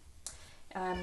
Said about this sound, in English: that's the cat, hey puss puss.